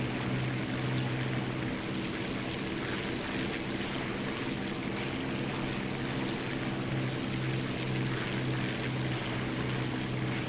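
A propeller aircraft engine in the War Thunder video game drones at a steady loud level throughout a continuous flight, with no talking over it.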